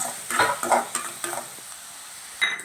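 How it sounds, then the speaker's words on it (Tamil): Fish curry ingredients sauté in a hot pan, giving a soft steady sizzle broken by several close, brief stirring scrapes and clatters, with a final louder scrape near the end. "இப்போ வந்து நல்லா வதங்கட்டும் நல்லா வதங்கி அந்த சாரெல்லாம் இறங்கட்டும்"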